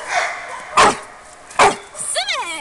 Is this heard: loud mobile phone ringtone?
no